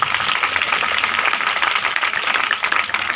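A church congregation claps loudly together during a Sunday service, a steady, dense wash of applause that runs through the whole moment with no clear pauses.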